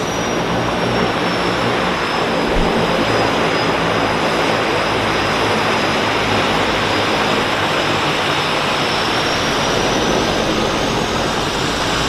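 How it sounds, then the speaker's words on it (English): A Twin Otter floatplane flies past at a float base with a loud, steady propeller-engine drone that holds evenly throughout with no other sounds. "Twin Otter, folks."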